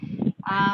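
A single sudden sneeze during a courtroom hearing, heard as a short, honking, voiced burst in two quick parts, fairly close and loud against a quiet room.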